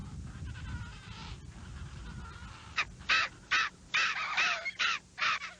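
Brown skua in Antarctica giving a series of loud, harsh, rhythmic squawking calls after a stretch of low wind rumble, the calls coming in quick pulsed bursts.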